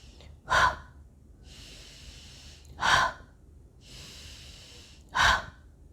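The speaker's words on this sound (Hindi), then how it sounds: "सांस को अंदर लेते हुए मुंह से मुंह खोल के सांस छोड़ेंगे" Three sharp breaths are taken in, each followed by a long, steady breath pushed out through a wide-open mouth. The pattern repeats evenly and sounds close, with no talking.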